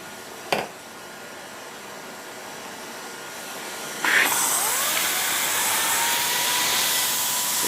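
A cordless Dyson stick vacuum fitted with a turbo brush runs in a house, a steady whine that jumps louder after a click as the power is increased, heard close with no talking.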